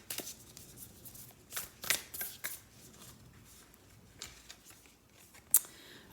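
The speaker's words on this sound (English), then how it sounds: "let's go just pull a quick oracle card and see how this is coming through" Oracle cards shuffled by hand in short papery riffling bursts, light flicks and rustles spread across several seconds, close and fairly quiet with no talk.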